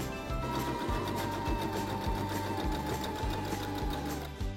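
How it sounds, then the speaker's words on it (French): A sewing machine runs steadily, stitching a seam about 1 cm from the edge of a small fabric pouch, its needle thumping in a fast even rhythm, close and continuous with no talk. "on va pouvoir faire notre couture tout le long"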